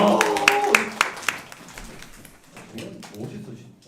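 Children at a church Sunday school clap in a short, brisk burst with a few sharp individual claps, then fade out as talking and cheering continue.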